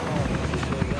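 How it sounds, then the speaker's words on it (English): Military helicopters fly overhead on a night raid, a loud, steady rotor roar filling the scene with no break. "Task Force Black sets off in their helicopters for the target house"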